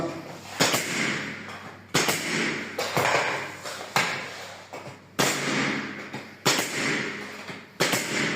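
An HSDTOOL steel nail gun for paneling and skirting boards fires seven sharp, loud shots at roughly one-second intervals, each a crisp bang followed by a short decaying rattle.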